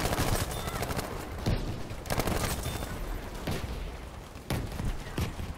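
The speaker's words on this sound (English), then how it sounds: "I'm pretty sure that's my own teammates' artillery." Distant artillery fire in a Battlefield V battle, several heavy booms landing at irregular intervals over a steady rumble of gunfire, with no voices heard.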